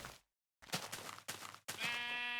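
A few short video game sheep bleats come in quick succession, separated by brief silences, the last one drawn out and tonal.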